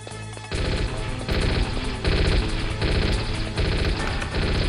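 Dense, continuous gunfire from enemy guards in the Metal Gear Solid video game, loud and sustained in a rapid machine-gun-like barrage with crashing impacts after a brief quieter opening.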